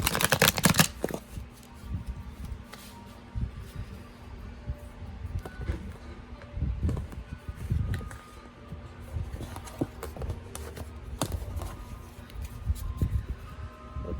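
Tarot cards are shuffled by hand close to the microphone, producing a continuous papery riffling with irregular taps and soft slaps and no talking.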